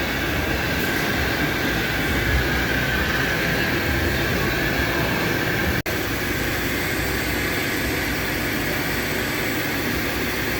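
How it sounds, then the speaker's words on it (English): A Hurco TMX8MYSi CNC mill/turn lathe with a 12-station turret and sub-spindle runs a dry-run program, producing a loud, steady mechanical whir and hum with a faint high tone and one brief click partway through. "We just dry run in this program so you can listen to the machine, hear it operate."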